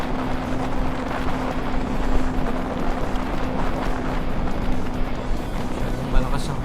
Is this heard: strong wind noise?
yes